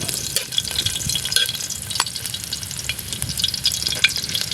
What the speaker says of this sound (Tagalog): Pwede nilagay ang bawang.